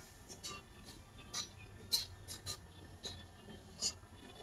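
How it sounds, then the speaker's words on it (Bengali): Chalk or marker scratches across a board as maths is written, giving a faint series of short, irregular squeaky strokes close by with no talking. "তাই লিখবো তৃতীয় সংখ্যামালা।"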